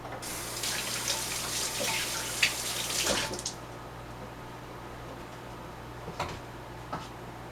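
Tap water running over hands at a kitchen sink for about three seconds while rinsing after kneading pizza dough, followed by quiet room tone and a few faint clicks.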